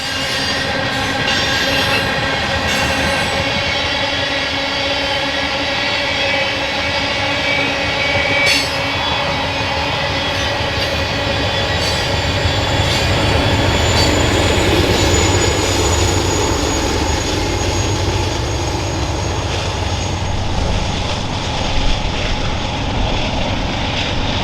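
A BNSF ethanol freight train rumbles steadily past on Montana's Milk River Subdivision, wheels grinding and squealing on the rails in a long, continuous roar with a faint horn tone early on.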